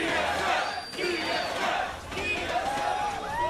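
An esports arena crowd chants TSM during a League match between FOX and TSM, a loud rhythmic roar of many voices that swells and falls in repeated waves.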